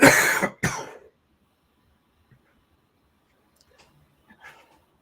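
A single sharp cough close by, followed by a second short cough, then near silence with faint breathing and small rustles.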